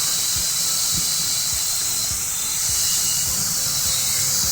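Grated carrots frying with onions in a pan for vegetable egg Maggi: a steady, bright hiss of oil close by, with soft rhythmic thumps of stirring underneath and no talking.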